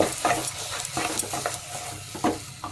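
Ground cumin and fennel are stirred into mutton paya, with repeated spoon scrapes and clinks over a gentle background sizzle, close up and without voices.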